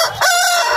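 Rooster of a native country breed crowing at a village market, a single loud, close drawn-out crow that rises and holds steadily, with no talk over it.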